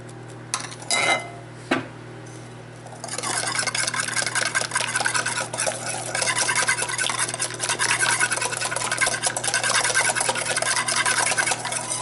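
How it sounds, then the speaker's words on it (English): A whisk beats apple upside-down cake batter with vanilla in a bowl: a couple of sharp metallic clinks, then a close, steady, rapid scraping and rattling that continues without pause over a low electrical hum. "Stir it up. Whisk it up."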